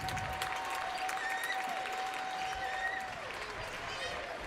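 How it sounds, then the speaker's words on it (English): Crowd applause fills a high school boys basketball game as players head to the sideline, a steady broad roar of clapping at moderate level with a sustained whistle-like tone running through much of it. "head to the sideline for their round of applause and hug from the coach"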